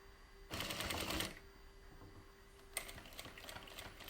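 A JACK industrial sewing machine stitches an end tack in two quick bursts, three stitches forward and three back, each a fast rattling whir separated by a short, quiet pause.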